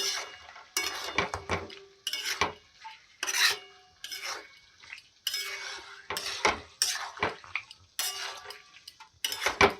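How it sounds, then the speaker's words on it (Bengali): Meat stir-fried as kosha in a metal pan, with a spatula repeatedly scraping and clattering against the pan in irregular bursts, close and moderately loud, separated by short quiet gaps. "কষা হচ্ছে"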